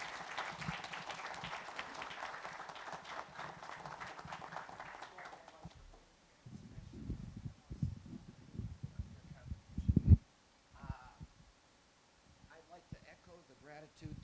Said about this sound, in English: If you want to give a round of applause for our panelists.